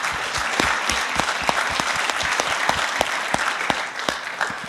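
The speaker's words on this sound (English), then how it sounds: "Can we get a round of applause for that?" Conference attendees at an automotive internet sales gathering clap steadily, a full room of applause with some sharp individual claps standing out close by, no speech over it.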